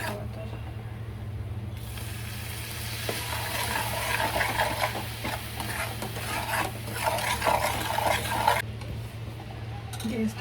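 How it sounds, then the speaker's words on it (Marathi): Custard caramel mixture stirred in a pan, a steady scraping swish of a utensil against metal over a low constant hum, with some sizzle-like noise and clinks, close and moderately loud. "आणि आता 3-4 मिनिटसाठी स्टर करत राहायचं."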